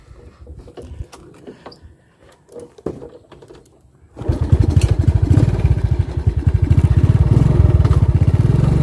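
A motorbike rides along a rural road in Chiang Khwan as floodwater begins to cover it; after a few seconds of faint clatter and birds, a loud, steady close engine drone takes over and persists to the end.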